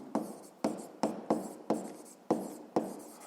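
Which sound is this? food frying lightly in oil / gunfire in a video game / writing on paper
writing on paper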